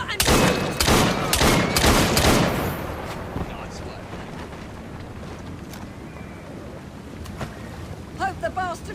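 A rapid volley of loud, sharp gunshots in the Assassin's Creed Syndicate video game, set in a rainy street, fires in a cluster over the first few seconds, then gives way to steady rain-like noise and a few faint clinks.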